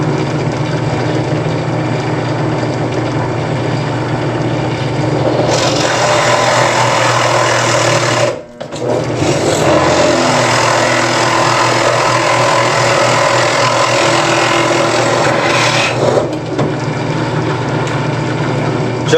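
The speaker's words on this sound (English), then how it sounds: "for these I'm just gonna take it to the drill press for the hole" A drill press drives a 1.5 inch Forstner bit through cedar fence picket wood over a scrap backer board, giving a loud, steady motor whine with grinding cutting noise that briefly drops out midway, then resumes.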